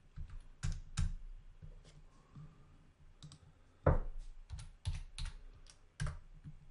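Keystrokes on a computer keyboard while entering recipe ingredient quantities in bakery software: scattered clicks and short bursts of typing, close and fairly quiet, with one sharper louder tap near the middle and no speech.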